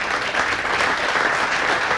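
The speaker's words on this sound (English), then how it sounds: "Let's give these guys a round of applause for what they do." A room full of people breaks into a brief, dense round of applause, continuous steady clapping with no talking over it.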